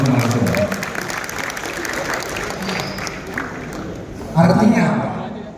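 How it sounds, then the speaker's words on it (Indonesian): Audience applause for a group of referees at a domino sports event in Indonesia: dense, steady clapping with crowd murmur, swelling into a louder burst near the end. "Mari kita beri tepuk tangan untuk teman-teman semua."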